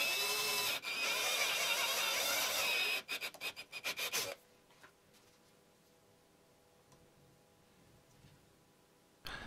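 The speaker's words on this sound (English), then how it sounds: "I'm actually grinding some lead out from the hole that I just drilled" Lead being rasped out of a freshly drilled hole in a pear-shaped fishing sinker: dense, loud scraping for about three seconds, then a few choppy strokes before it stops into near quiet.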